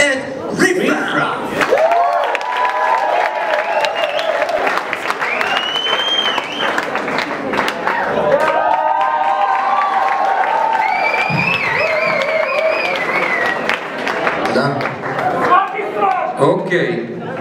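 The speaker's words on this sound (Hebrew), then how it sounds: "אז קראו מחיאות כפיים את ריפה" Applause, cheers and whoops rise from the audience at a pride event in Karmiel as the performer Riffa is welcomed. Amplified speech carries over the clapping from a stage microphone, and the crowd noise stays lively throughout.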